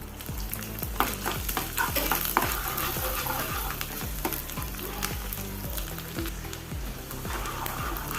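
Finely chopped coconut fries in ghee in a pan, a dense continuous crackle and sizzle with a repeated rhythmic scraping of a spoon throughout, loud and close with no talking.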